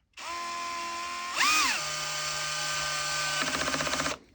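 A Bosch 12V drill driver runs in first gear on clutch setting 1, giving a close, steady motor whine that dips in pitch before the clutch slips into a fast ratcheting chatter.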